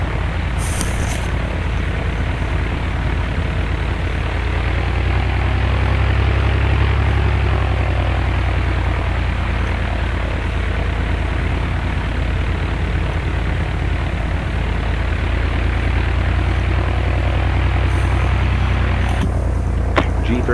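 A Beechcraft G36 Bonanza propeller plane in the X-Plane 11 simulator drones steadily through its takeoff, a loud, continuous engine and propeller hum holding for the full length with little change.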